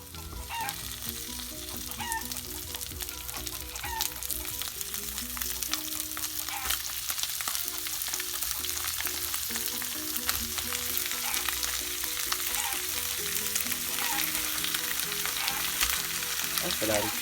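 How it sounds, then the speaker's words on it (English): Chicken pieces added to a pan of sautéed vegetables for adobo sizzle and fry steadily and loudly, with occasional stirring scrapes, no talk. "And now we're gonna add the chicken."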